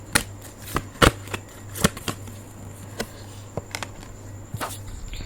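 Tarot cards being shuffled and drawn, giving crisp papery flicks and slaps in irregular bursts against a low steady hum, with no talking.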